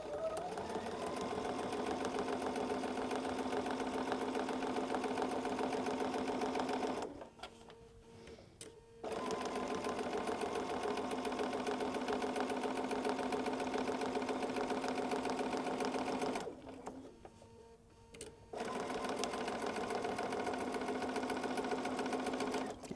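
A sewing machine stitching a flannel half-square triangle rag quilt runs in two long steady whirring bursts, each stopping briefly in a short pause before starting again, close and without talk.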